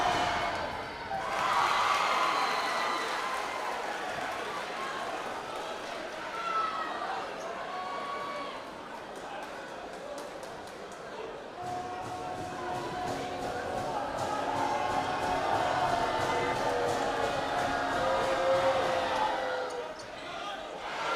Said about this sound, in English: Salem crowd trying to cause a stir here